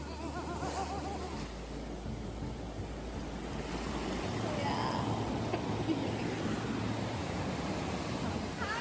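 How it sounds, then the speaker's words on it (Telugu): Surf rolls in at Vizag beach with a continuous wash of waves and wind rumble, swelling a little louder partway through, while people talk over it. "బీచ్ కి వచ్చాం"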